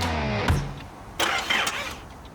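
A car with a weak battery cranks its engine trying to start, a short grinding whir at the opening followed by a few brief bursts of sputtering and clatter, close and moderately loud.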